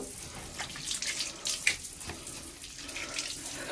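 Hot water poured out in a steady splashing stream, with a few louder splashes in the middle and low room noise beneath, no voices.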